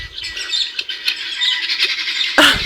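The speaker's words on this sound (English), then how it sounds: "The birds, the guinea fowl are reacting to a corella that just flew over" Guinea fowl calling, reacting to a corella flying over a boggy garden of unusual food plants; continuous shrill, chattering bird calls throughout, growing louder and harsher near the end.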